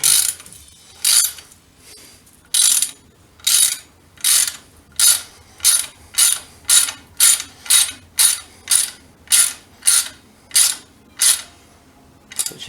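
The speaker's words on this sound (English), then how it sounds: "The worst tap wrench ever. Can't even stay tight." A ratcheting tap wrench threads a hole for Motozaaa crash bars on a 2019 CB500X motorcycle, giving about sixteen loud, evenly spaced metallic ratchet strokes close up, with no talk.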